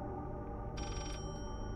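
Telephone bell ringing in the video game Layers of Fear, one bright ring burst rising over a dense, steady droning ambience.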